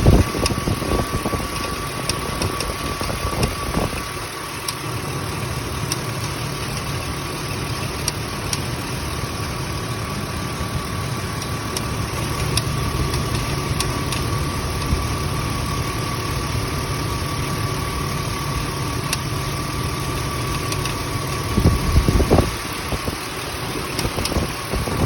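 A 2005 Ford Explorer engine idles steadily and close for about 25 seconds, a continuous mechanical hum with a faint repeating tick, a brief louder clunk near the end, and no talking.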